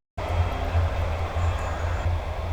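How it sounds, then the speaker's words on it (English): A train passing on a nearby railway line beside a river mooring on a misty morning, a steady low rumble with a faint rhythmic pulsing of wheels, fairly distant and continuous. "You just about hear a train going by there."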